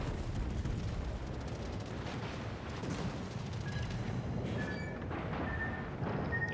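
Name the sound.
naval secondary gunfire in World of Warships video game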